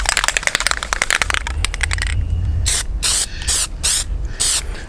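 Aerosol paint sprayed in short, repeated hissing bursts to lay a second light coat on car and truck badges, the close bursts separated by brief pauses with no talking.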